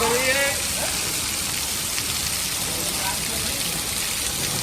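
Heavy monsoon rain pours down steadily in Morbi, a dense, even hiss of drops drumming on surfaces, with a voice briefly audible at the start.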